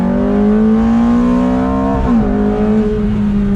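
A 2006 Ferrari F430 Spider engine revs loud and close on the throttle. The pitch climbs smoothly, dips briefly when the throttle eases, then holds again, with no talking over it.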